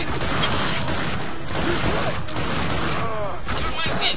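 Dense, continuous gunfire in the shooter game The Darkness II: rapid, loud shots and mechanical clatter run without a break, with voices shouting underneath.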